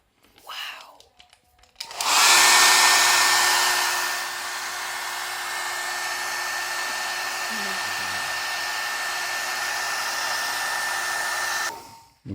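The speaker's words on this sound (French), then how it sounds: "nous allons nous servir de notre superbe sèche-cheveux" A hair dryer switches on with a sharp burst and then blows steadily in a loud, constant whooshing drone with a clear motor whine, aimed at erasable pen ink, running for about ten seconds before cutting off.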